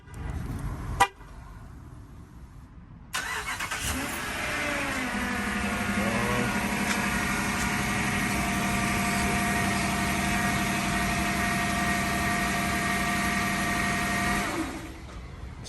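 A Dodge Durango engine cranks on by remote start after a short click and settles into a steady idle for about ten seconds, then cuts off; an engine light is on.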